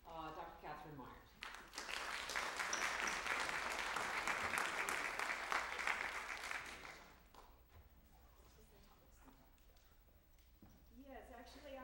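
Lecture-hall audience applauding a guest speaker at a talk on organized crime, a steady wash of clapping lasting several seconds before fading out, with a voice speaking before and after.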